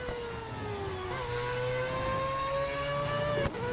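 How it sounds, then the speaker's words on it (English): A Mazda 787B race car's engine in the game Real Racing 3 gives a steady, loud, high-pitched whine that climbs slowly in pitch, then briefly dips near the end. No one talks over it. "have a listen to that engine. Now that does sound like a 1980s engine"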